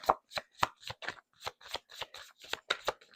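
Tarot cards being shuffled in a quick run of about a dozen crisp riffling bursts, close up and fairly quiet, with no talking.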